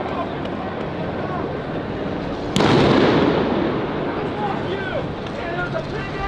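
Sharp report bursts out amid a crowd at a Los Angeles protest against ICE, shots fired from above off a tower toward protesters, followed by a loud lingering rumble and wash of noise with voices throughout.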